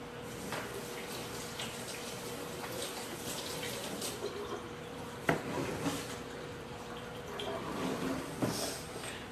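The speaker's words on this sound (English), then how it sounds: "Let me go wash my hands." Hands are washed under a running kitchen sink tap during home cooking, a soft continuous stream of water with faint splashes and a few clinks, fairly quiet and without speech.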